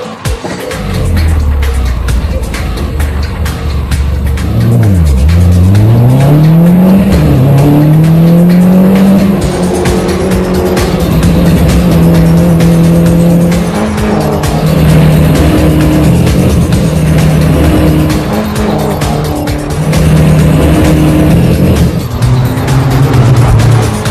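Mini Cooper race cars circle a track with loud engines revving and shifting, tires squealing as one spins out, and the pack roars on continuously, close and dominant.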